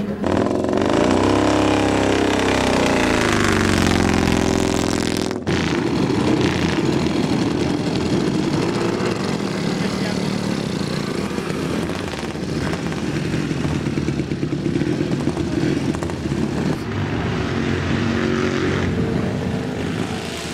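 Vintage motorcycle engines, including a Norton, roar continuously at an oldtimer race at Bábolna, with rising and falling revs as machines pass and a sharp shift partway through.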